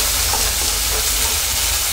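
Soaked chana dal sautés loudly in a pan, giving a dense, continuous close-up sizzle with no pauses and no voices over it.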